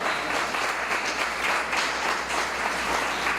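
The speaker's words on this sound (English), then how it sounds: "Another round of applause for Stephanie." Audience applause at an awards ceremony, a sustained, even roar of many hands clapping at close range, steady throughout.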